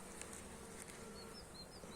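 Steady, faint buzzing of honeybees droning continuously in the background, with a few thin high chirps near the end.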